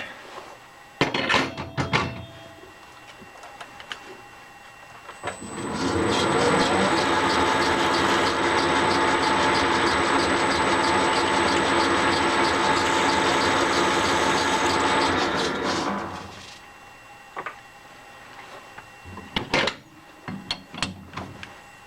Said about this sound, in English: So now we just need to drill 2 holes in here, evenly spaced.